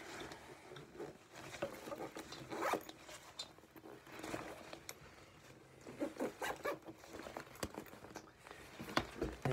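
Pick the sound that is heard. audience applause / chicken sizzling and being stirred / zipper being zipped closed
zipper being zipped closed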